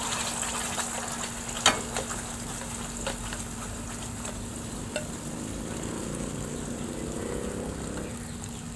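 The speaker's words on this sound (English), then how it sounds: "So I'm just gonna keep stirring and frying." Steady sizzling of green masala paste frying in a pan, with occasional scraping and clinks of a utensil stirring.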